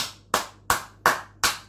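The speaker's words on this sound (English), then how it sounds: "let's give him a round of applause for that" Slow, sarcastic clapping by one person: four sharp, close claps spaced evenly about a third of a second apart, with nothing else heard.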